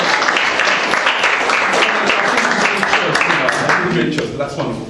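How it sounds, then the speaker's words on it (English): Workshop audience claps for a volunteer, a loud, dense round of applause close by that fades slightly at the end, with a voice talking over it. "give a round of applause"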